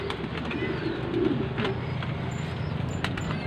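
Pigeons in their coop just after a rainstorm, giving low throaty coos over a steady background hum, with a few faint clicks and rustles close by.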